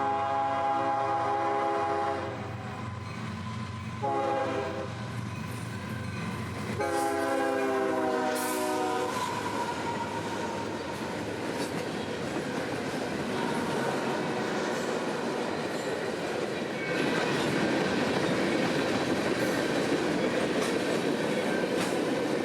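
A freight train rolls through downtown Bushnell on a Saturday evening, its horn sounding loud and close in repeated blasts, then giving way to a steady rumble and clatter of passing railcars.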